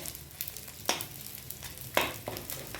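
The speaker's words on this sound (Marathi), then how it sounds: "थोडंसं ढिंक ढिंक तळून घेत आहे" Edible gum (dink) frying in ghee in a home kitchen: a quiet, continuous crackle and sizzle with a few sharper spoon scrapes and stirs breaking through, no voices.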